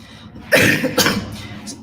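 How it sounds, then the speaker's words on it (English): A person nearby coughs twice, loud and harsh, with a short gap between bursts. "I have a bit of a cough, so excuse me, everyone"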